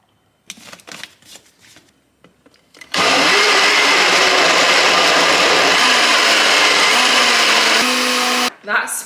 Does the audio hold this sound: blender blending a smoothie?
yes